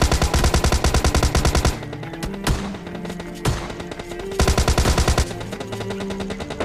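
Gunfire in PUBG Mobile Lite gameplay, with an S1897 shotgun among the weapons: loud, rapid bursts of automatic fire open and return later, and a few single heavy blasts crack out in between.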